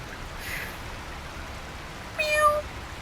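A cat from the film A Quiet Place: Day One gives a soft meow, then a louder, clearer drawn-out meow near the end over faint background noise.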